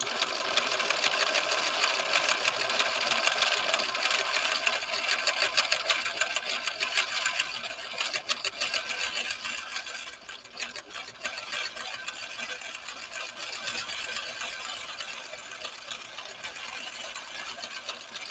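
A 1970s Viking Husqvarna 6030 sewing machine stitches continuously, its motor hum and fast rhythmic needle ticking steady and fairly close for the whole stretch, easing slightly in the latter half.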